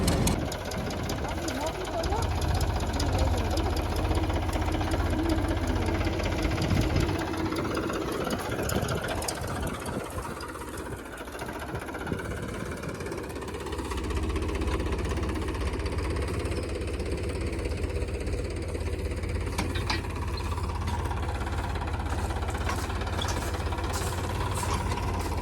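A groundnut thresher driven by a tractor runs with a steady, low, knocking engine drone and mechanical rattling, a little quieter partway through, while people talk over it.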